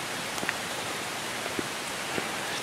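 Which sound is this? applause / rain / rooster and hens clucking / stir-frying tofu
rain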